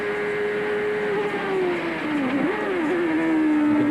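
A 1992 CART race car at Mid-Ohio drones at high speed, its engine note steady and then dipping and wavering, with the faint scrape of the car's underside rubbing the track mixed in, heard from a distance.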